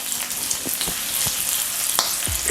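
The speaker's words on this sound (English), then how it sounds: "when you cook the sage in high heat pan with the butter" Sage leaves fry in butter in a hot pan, giving a steady close sizzle with scattered crackles and pops throughout, no talking.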